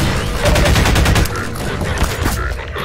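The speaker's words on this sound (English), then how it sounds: "every time it uses one of those implosion rounds" Implosion rounds firing in Half-Life 2: Episode Two, a dense, rapid rattle of loud shots that pounds for over a second, then settles into a rougher, noisier tail.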